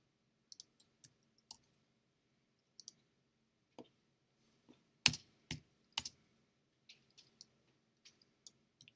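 Sparse computer keyboard clicks while copying and pasting: scattered single keystrokes and short bursts of two or three taps, crisp and close in an otherwise quiet room.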